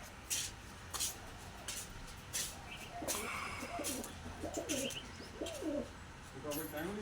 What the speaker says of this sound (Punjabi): ਇਹ ਕਬੂਤਰੀ ਹੈ ਬਈ